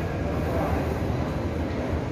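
A metro train rumbles underground, a steady, loud, broadband roar of wheels and carriage noise with no breaks across the short stretch, heard from inside or beside the moving subway.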